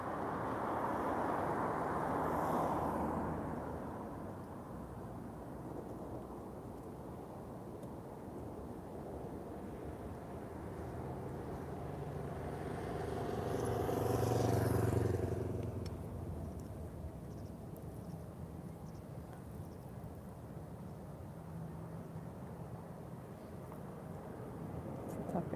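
A TAP Air Portugal Embraer approaches to land at Lisbon Airport on a sunny afternoon: a distant jet roar swells gradually, peaks, then fades, under steady wind noise.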